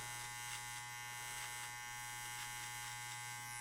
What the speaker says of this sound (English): this is why I like this clipper, because it has the notches